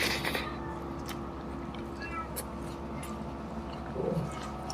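A cat meows softly a couple of times in the background of a quiet indoor setting during a Filipino meal of lumpia and chicken inasal.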